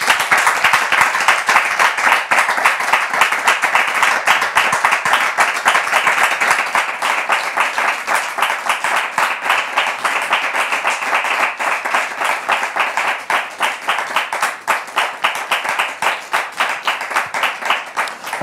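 A television studio audience claps steadily and loudly for a long stretch, dense rapid applause from many hands with no talk over it.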